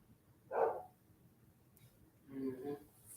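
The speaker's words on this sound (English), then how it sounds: "And Bella barking at him." Bella the dog gives two short bark bursts, a sharp one early and a rougher, longer one near the end, fairly close with quiet background between.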